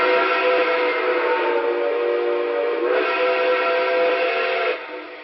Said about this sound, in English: I really think this is my favorite whistle.